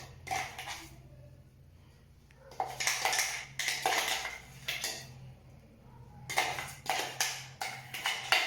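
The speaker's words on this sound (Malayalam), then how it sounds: "മറ്റൊരു പാത്രത്തിലേക്ക് നമുക്ക് ആക്കിയെടുക്കാം. ഓക്കെ, പാത്രം എടുക്കാം." Chilli mayonnaise being scraped and spooned from one bowl into another in a home kitchen, with bursts of clinking and scraping of utensils against dishes separated by quieter pauses, close and fairly loud.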